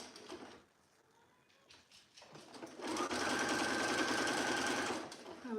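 A domestic sewing machine runs a wide zigzag stitch, width near 5 and length 4, on soft dress fabric; a steady, loud mechanical whir sustains for about three seconds after quieter handling sounds.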